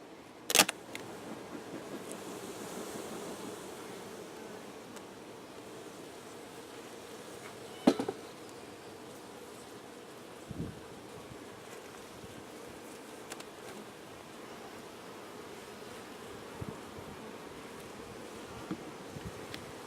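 Honey bees buzzing around an opened hive, a steady low hum with occasional soft clicks and knocks from handling, no talking.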